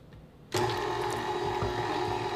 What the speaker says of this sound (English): Knead this on medium-low speed until the dough is nice and smooth and no longer shiny.